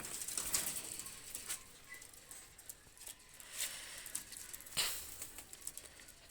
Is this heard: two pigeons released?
yes